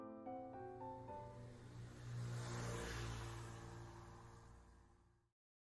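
Motorbike engine revving in a visual novel game, a rising harmonic whine that builds to a loud sustained roar and then cuts off abruptly, heard alone with no voices.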